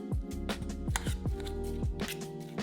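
Tuna is mixed with mustard or mayo in a bowl, with a quick, rhythmic series of close, wet scraping strokes of a utensil against the bowl.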